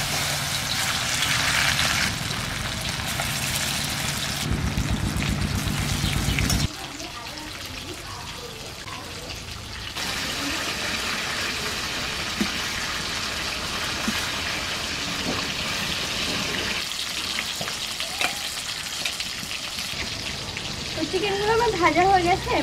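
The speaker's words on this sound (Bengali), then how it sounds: "তো এবার আমি চিকেন গুলো হালকা করে একটু ভেজে নেব।" Chicken pieces frying in hot oil in a wok (kadai), a steady broadband hiss and crackle that runs throughout, shifting in texture partway as pieces are moved, with background music or voice faintly underneath.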